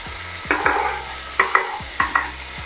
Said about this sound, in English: So you add the onions, and okay, let's listen to the sizzle.